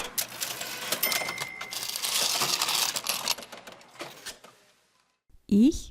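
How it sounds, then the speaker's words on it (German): A cash register at a supermarket checkout clatters and rattles busily for several seconds, with key-like clicks and coin-like jingles, before fading to quiet and ending in a short, loud, rising electronic tone. "Im Supermarkt an der Kasse."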